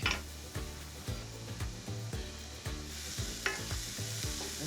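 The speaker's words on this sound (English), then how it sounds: "I'm ready for the leeks. A quick saute, I wanna soften them." Leeks and garlic sautéing in olive oil in a pan, a steady close sizzle broken by regular scraping and stirring knocks of a utensil against the pan. No talking.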